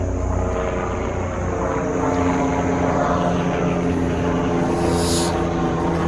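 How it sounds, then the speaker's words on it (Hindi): A helicopter flies near Chopta in the mountains, its steady droning engine and rotor noise loud and continuous throughout, with a brief high whine rising and fading midway. "और वो हेलीकॉप्टर, ये देखो"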